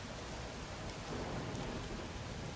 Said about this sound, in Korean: 빗소리가 집 전체에 너무 크게 울려 마크하임의 귀에는 그것이 여러 가지의 소리처럼 들렸다